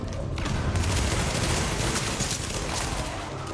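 A flashbang grenade goes off amid bursts of rapid gunfire in the video game The Division, forming a loud, dense, continuous wash of blasts and shots.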